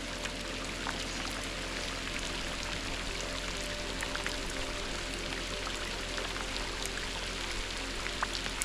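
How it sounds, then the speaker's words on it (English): Heavy rain pours steadily during a storm on a backcountry fishing trip, a dense continuous hiss of drops pattering on water and surfaces with no voices. "It's really raining now."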